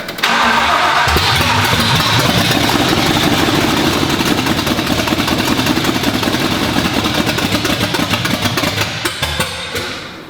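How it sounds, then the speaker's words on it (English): A freshly built, stout-sounding car engine fires up and runs steadily and loudly up close, a rough broadband roar with a rumbling low end that holds for about ten seconds before easing slightly at the end. "Well, it runs, and that's a hell of an engine."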